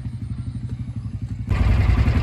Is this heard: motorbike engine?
yes